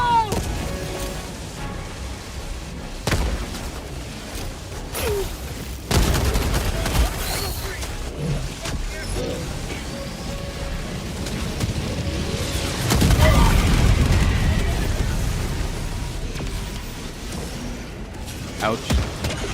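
Grenade blasts and gunfire in the Helldivers 2 video game, with heavy booms and bursts of shots recurring through a dense, loud battle, a large explosion swelling near the middle, with a voice speaking over the combat.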